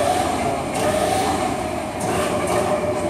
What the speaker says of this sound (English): So you'll see if the carriage goes back and forth. Now when it hits the wall, it should automatically stop.